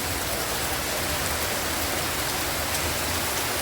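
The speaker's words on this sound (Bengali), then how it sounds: "কীরকম ঝাপা বৃষ্টি।" Heavy monsoon rain pours down steadily, a dense, loud, unbroken hiss close by with no pauses, no other sounds standing out.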